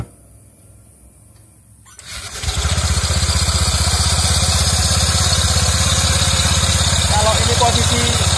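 A motorcycle engine starts after a near-silent stretch and settles into a steady, loud, close idle with a throbbing low rumble while the wheel stays still. There is no talk over it.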